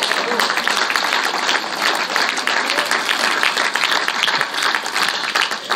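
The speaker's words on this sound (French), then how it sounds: "Acclamons." A crowd of audience members claps and cheers in sustained, even applause, loud and steady throughout with no break.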